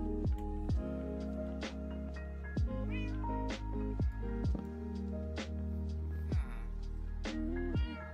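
Cats in the video game Minecraft meow repeatedly, several short tonal calls in a loose rhythm over a steady background bed, close and clear with no talking.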